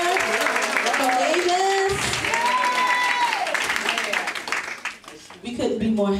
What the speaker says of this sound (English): Can everybody cheer?